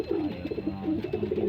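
Pigeons cooing close by in a short burst of soft, repeated throaty coos, low and rounded, with no voices over them.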